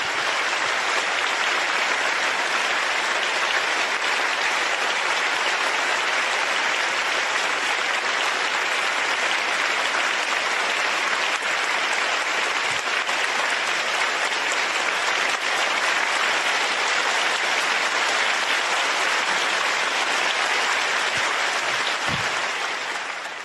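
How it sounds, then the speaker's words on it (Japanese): A large crowd at a Tokyo gubernatorial election rally gives sustained, loud applause, a dense even wash of clapping that continues unbroken for over twenty seconds before tapering at the end. "改めて皆さんご自身に盛大な拍手をお願いします。"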